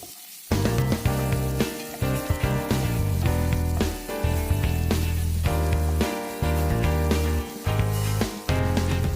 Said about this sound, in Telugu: ఒక 2 నిమిషాల పాటు వేయించుకుందాం.